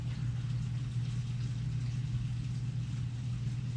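A laundry machine runs in the background with a steady, low, faint hum and rumble that stays even throughout, with no voices over it.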